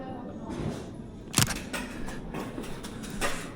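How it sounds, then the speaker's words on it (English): A single sharp shutter click from a Fujifilm X-T30 taking a photo during London street photography, brief and close, set against faint city background noise. "I'm gonna take one."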